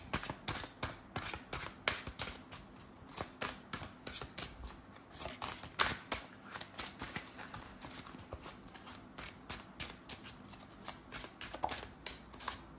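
Tarot cards shuffled and riffled by hand in a steady run of crisp, rapid flicks and taps, close and fairly loud, with no talking over them.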